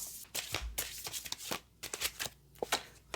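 A deck of tarot cards is shuffled by hand in quick riffling bursts with short pauses between, close and fairly quiet, with no voice.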